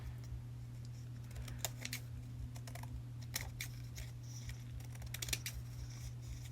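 Scissors snip paper scraps for a journal, making close, quick crisp cuts in short clusters over a steady low electrical hum.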